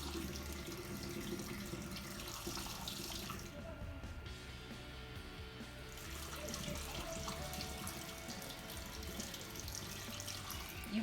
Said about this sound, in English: it's going to get really fizzy and bubbly. So watch as I pour it down in there.